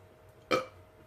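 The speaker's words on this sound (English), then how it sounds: "Good burp." One short, loud, close burp right after a drink, standing alone against quiet background.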